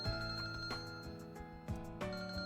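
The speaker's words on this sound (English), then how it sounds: "My phone rang." A phone ringtone in the visual novel game Kinkoi Golden Loveriche, a bright electronic melody of repeating tones in a steady pattern, moderately loud with no voices over it.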